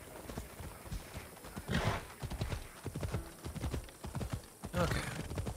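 Steady clip-clop of horse hooves at a brisk trot in the video game Assassin's Creed Odyssey, close and continuous, with a faint whinny in the mix.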